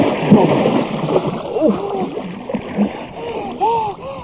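A person wades into a cold, misty river for a morning swim. Water splashes and gurgles close by while a voice gasps and exclaims over it, with short wavering vocal cries.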